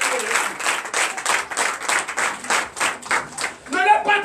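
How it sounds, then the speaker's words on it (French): A church congregation at a Sunday service claps and acclaims in rhythmic bursts, a steady pulsing applause with voices mixed in, ending with a sustained cheer. "Donnez l'acclamation à Jésus"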